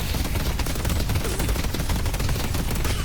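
Turrets in the game Deadlock fire a dense, continuous rapid burst of gunfire, loud and steady across the whole stretch with no talk over it.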